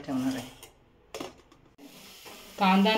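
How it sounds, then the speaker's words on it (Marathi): Onion and garlic sizzle in hot tempering oil, with stirring scrapes of a spoon in the pan coming in short bursts between pauses, close and moderately loud. "कांदा आणि लसूण फोडणीला घातली"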